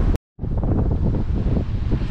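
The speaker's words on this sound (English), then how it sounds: "Sorry about the wind as well." Wind buffets a microphone outdoors beside a statue in a town square, a loud continuous roaring rumble that cuts out briefly near the start and then resumes without let-up.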